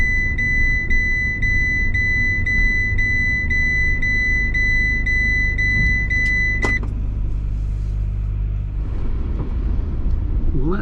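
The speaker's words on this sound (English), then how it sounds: "That beeps because I've not put my seatbelt on" A car's seatbelt warning chime beeps in a fast, regular series over steady engine rumble, then stops, leaving the idling vehicle.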